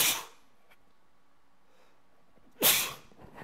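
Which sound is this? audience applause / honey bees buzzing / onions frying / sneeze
sneeze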